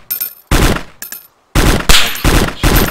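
Loud, close gunfire from the video game DayZ comes in sharp, rapid bursts separated by brief silences, with heavier automatic volleys through the second half.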